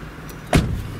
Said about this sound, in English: Car comes to life with a nice rumble